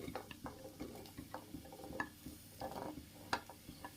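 Diced potatoes stirred into a frying onion mixture for potato curry make soft scraping and clinking against the pan over a faint steady sizzle, close and quiet, with no talking.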